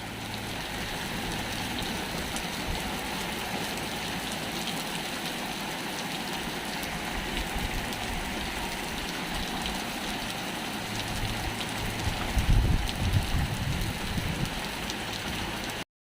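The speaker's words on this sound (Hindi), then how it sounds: "अब तो कुछ ज़्यादा ही तेज आ गई बारिश।" Steady heavy rain pours down, a dense continuous hiss of drops on surfaces with a few louder splashes near the end.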